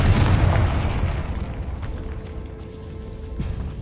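Confringo fire spell explosion in the Hogwarts Legacy video game, a loud low boom at the start that decays into a rumbling tail over ambient game sound.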